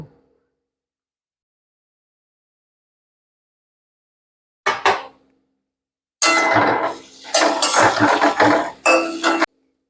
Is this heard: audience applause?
no